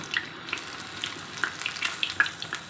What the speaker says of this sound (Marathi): यावरती असं तेल उडवायचं आहे म्हणजे छान असं तळलं जाईल पनीर